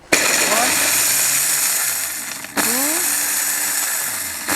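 A Panasonic 2000 W blender motor starts up and whirs at a steady pitch, pauses briefly, then spins up again with a rising whine, loud and close.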